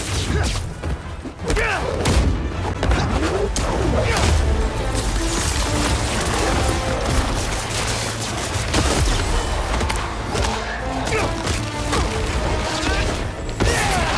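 Symbiote nests blow up in Marvel's Spider-Man 2 on PC, a dense, loud run of booms, thuds and crashes that keeps going with little pause.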